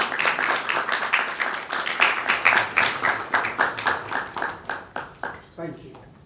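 Hands clap steadily in a church gathering during an ecumenical unity week prayer service, a rhythmic applause that carries on for several seconds and thins out near the end.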